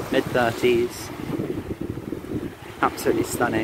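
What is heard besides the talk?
sea waves and wind on a beach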